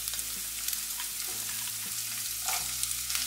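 Square-cut onion hits hot oil in a pan for crispy chilli cauliflower, a steady close sizzle with light stirring and a tonal hum underneath.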